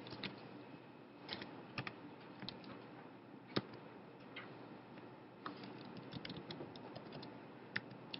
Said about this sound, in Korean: 이거를 한번 타이핑을 해보면